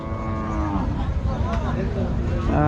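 Cattle moo repeatedly over a busy, noisy crowd at the Rajshahi city cattle market, with one cow calling close by and others lowing farther off.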